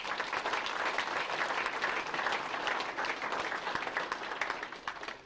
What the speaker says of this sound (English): So a round of applause there, too.